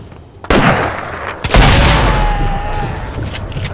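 Gunshots in the VR shooter Sniper Elite VR, two sharp loud reports about a second apart, the second followed by a long booming echo and rumbling tail that slowly decays.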